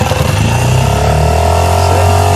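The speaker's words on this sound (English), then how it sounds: "How do you stop the engine? Really loud." A small boat's outboard engine runs loudly and steadily just after being started with the choke out, a close, continuous mechanical drone filling the whole stretch.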